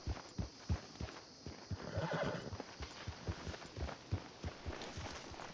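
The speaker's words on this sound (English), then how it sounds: "Get the horse out of here." A horse in a video game whinnies loudly over steady clip-clopping hooves that trot along in a quick, even rhythm.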